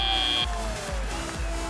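A short electronic end-of-match buzzer at the FIRST robotics championship sounds as a steady high tone for under half a second, then stops, leaving arena crowd noise and a low rumble.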